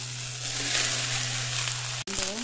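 Cabbage dropped into hot oil in a pan after a brief frying of other ingredients, giving a loud, continuous sizzle under a low steady hum, with a brief cut and then renewed sizzling.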